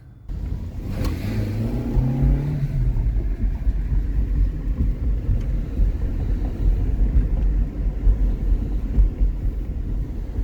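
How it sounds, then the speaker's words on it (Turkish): A modified car's engine idles with a deep, steady rumble after a brief rev near the start, loud and close with some wind buffeting, at a car meet in Belgium. "Yani arabam size güzel ses yapıyor."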